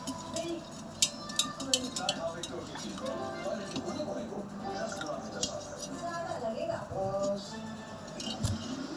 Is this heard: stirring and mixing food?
yes